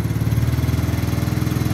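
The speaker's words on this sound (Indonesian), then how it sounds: "Ini saya buka pelan-pelan sampai mesin meraung paling kenceng." A motorcycle engine that is hard to start in the morning revs as its throttle is slowly opened, a loud steady pulsing drone held close up, with no voices over it.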